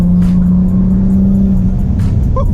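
A turbocharged, rear-mount-turbo Infiniti G35 runs close and loud with a steady engine drone, then gives a sharp burst near the end that fits its blow-off valve venting.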